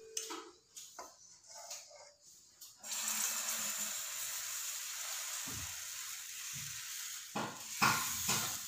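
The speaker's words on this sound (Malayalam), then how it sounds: "ഇനി ഒരു പാൻ ചൂടാക്കി ദോശ ചുട്ടെടുക്കാം." Wheat dosa batter poured onto a hot pan gives a steady loud sizzle and hiss after a few quieter kitchen knocks, with some clatters of a utensil near the end.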